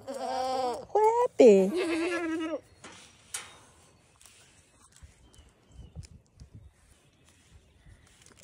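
A goat bleats several times up close, harmonic cries in the first few seconds, then quieter footsteps and farmyard shuffling follow; a person speaks briefly in between.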